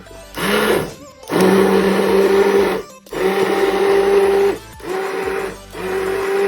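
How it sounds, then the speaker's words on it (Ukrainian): A blender pureeing cooked fruit, whirring in several bursts, motor revving up, running a second or so, then cutting off before starting again, loud and close. "блендером буду дрібнити."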